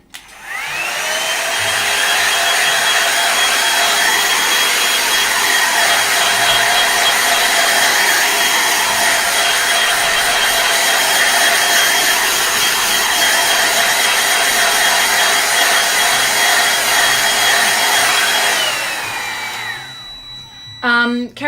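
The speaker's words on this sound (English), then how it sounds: "All right, I've got the hairdryer." A hair dryer runs continuously for about twenty seconds, drying acrylic paint on a canvas. It is a loud, steady whirring blow close by, switching off near the end, with a brief sound afterward.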